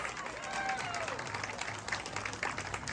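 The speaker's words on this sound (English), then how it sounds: "another round of applause, please" A crowd applauds steadily throughout at a charity walk's opening ceremony, a dense wash of clapping with some voices mixed in underneath.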